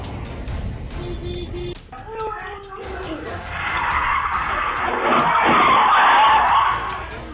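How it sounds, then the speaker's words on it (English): A car brakes hard in a crowded parking lot, and its tyres skid and squeal loudly. The skid builds in the second half over a low engine rumble, with scattered knocks and taps before it. "One wrong turn caused panic in a crowded lot, but quick braking prevented a serious accident."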